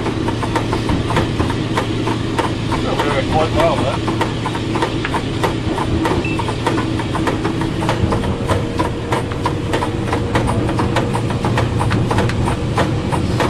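The D1062 diesel locomotive's engine runs in notch one and is given a few revs, a steady low rumble heard from the cab with rhythmic rail clicks, while people talk over it throughout.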